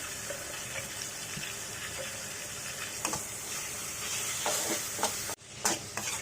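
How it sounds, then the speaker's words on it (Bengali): Beef liver filling with green chilies, cumin and garam masala sizzles in a pan under steady stirring and scraping, with a few louder scrapes near the end and a brief cut. "সবগুলো উপকরণ আমি একত্রে নেড়ে মিশিয়ে দিচ্ছি"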